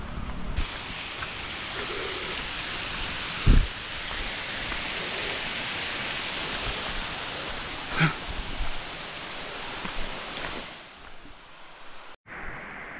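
The waterfall at Batman Loop falls roars as a steady, dense rush of water, close and loud throughout, with a few brief splashy surges before it cuts out near the end.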